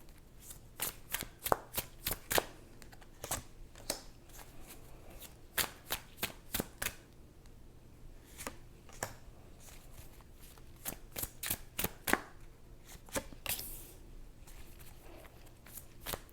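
A deck of tarot cards shuffled by hand, quiet close riffles and sharp card snaps that come in irregular clusters across the whole stretch, with no talking.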